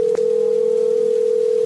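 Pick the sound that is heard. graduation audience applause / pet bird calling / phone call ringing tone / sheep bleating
phone call ringing tone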